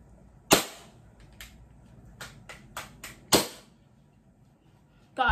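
A Glock BB gun fires a few sharp, close cracks spread over several seconds, with fainter clicks between them and another loud burst at the end.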